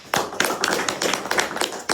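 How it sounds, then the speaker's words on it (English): A small classroom group claps for a debate argument about four-day school weeks, with a quick patter of uneven, close claps that comes in short bursts and stops abruptly. "Round of applause."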